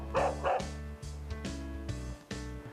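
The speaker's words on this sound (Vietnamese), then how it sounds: "Sao nhà làm có chó sợ quá." A house dog barks near a visitor, two sharp close barks at the start followed by repeated yips and whimpers in quick irregular bursts, loud against a steady musical background.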